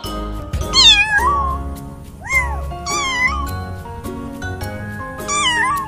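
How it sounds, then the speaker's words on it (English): A cat meows several times in a row, the calls loud, close and rising and falling in pitch, with soft background music underneath and no talking. "C for cat."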